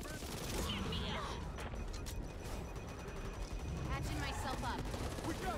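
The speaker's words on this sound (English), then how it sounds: "I'm just being shot at repeatedly by my team" Teammates firing guns in the co-op game Back 4 Blood: rapid bursts of automatic gunfire and shots keep coming through the full stretch, loud and dense, mixed with game effects and occasional voice chatter.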